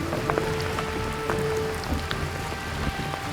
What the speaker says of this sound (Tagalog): Ayan na ulan, nalakas na.